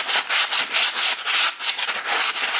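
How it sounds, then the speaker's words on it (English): Sandpaper rubbed by hand over a rusty wrought iron handrail makes rapid, rhythmic back-and-forth rasping strokes, loud and close, with no talking. "I stripped off most of the rust. So with the sandpaper, like this part for example"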